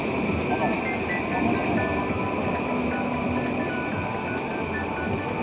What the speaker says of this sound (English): the Yamanote line is coming in.